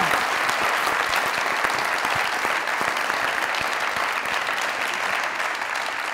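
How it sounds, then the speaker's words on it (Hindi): A television comedy talk-show studio audience applauds, a dense, steady burst of clapping that holds at a loud, even level throughout. "फैसल साहब के लिए तालियां।"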